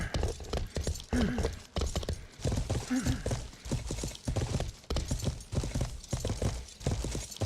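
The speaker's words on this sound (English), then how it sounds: "I hear horse." Hooves clip-clop in rhythmic steps through a game set on wintry northern plains, with a brief whinny-like call, all under steady chatter between players.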